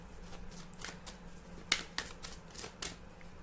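Tarot cards are shuffled and drawn by hand, making soft papery flicks and snaps that come in irregular quick bursts, faint and close against a quiet background.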